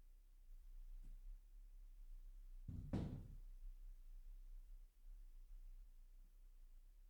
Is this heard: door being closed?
yes